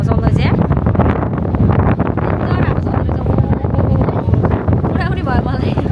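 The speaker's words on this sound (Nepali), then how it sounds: "यस्तो हावा चलेको छ हेर्नुहोस् मलाई उडाउन लागिसक्यो" Strong wind buffets the microphone at the top of the Eiffel Tower in Paris, a loud, continuous roaring rumble while a person talks over it.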